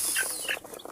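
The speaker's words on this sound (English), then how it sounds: "These are 2 months old chickens." Two-month-old local chickens in a farm fowl pen give a quick run of close clucks and short calls, several bursts in under a second with no talk.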